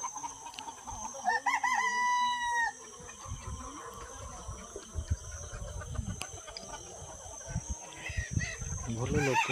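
Desi chickens on a large chicken farm. A rooster crows loudly near the start, and hens keep clucking and calling throughout while someone talks over the birds.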